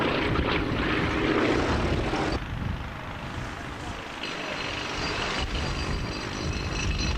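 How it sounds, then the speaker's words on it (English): Avro Lancaster bomber with its propeller engines, a loud continuous droning roar that dips slightly midway and then steadies, grainy and broad like an old recording. "well, we certainly know what that big monster is. It's one of our favourite aircraft. That's the wonderful Lancaster."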